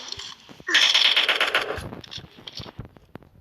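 Gunfire in a shooter video game: a loud, close burst of rapid automatic fire followed by scattered lighter shots and clicks, with no voices.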